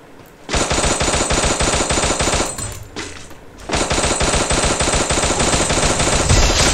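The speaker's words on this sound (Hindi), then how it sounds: "कितना फायर करना पड़ा" Sustained machine-gun fire in a 1970s-style stealth action video game, dense rapid bursts that are loud and close, breaking off briefly near the middle before resuming at full intensity with no talk over it.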